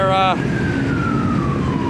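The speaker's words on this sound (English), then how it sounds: "Got the police officer or ambulance going by." A police car or ambulance siren wails as it passes on the street, its pitch sliding steadily downward under a steady background rumble, while someone works on spark plugs nearby and a voice can be heard.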